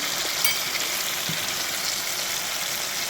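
Tomatoes with salt frying in a pan, a steady, loud, dense sizzle that runs unbroken throughout with no voices.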